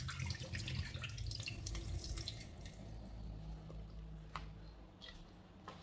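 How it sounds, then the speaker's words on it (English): Water poured off soaking beans in a kitchen: a close, splashing flow for about three seconds, tapering into scattered drips and small trickles. "So this one, now let me remove the water."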